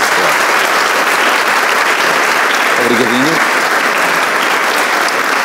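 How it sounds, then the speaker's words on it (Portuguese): Steady applause from a large audience fills the whole stretch, dense and continuous, with a brief spoken word heard under the clapping. "uma salva de palmas para ele"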